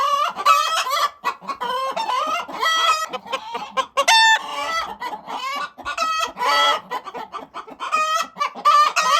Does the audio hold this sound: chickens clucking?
yes